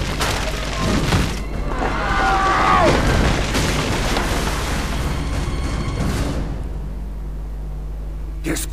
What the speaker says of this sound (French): Des enfants qui jouent, avec des feux d'artifice.